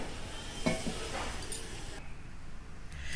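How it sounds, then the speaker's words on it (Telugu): Chicken pieces for a chicken curry cook over a low flame, giving a steady, soft sizzle with occasional stirring clinks of a spoon against the pan, continuous and close. "సన్న మంట మీద బాగా ఉడుకుతున్నాయి చూడండి చికెన్ ముక్కలు."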